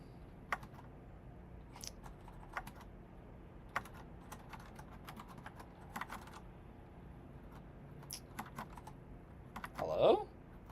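Irregular, crisp keystrokes on a computer keyboard while coding, scattered clicks with uneven gaps over a quiet background, ending in a slightly louder burst of activity.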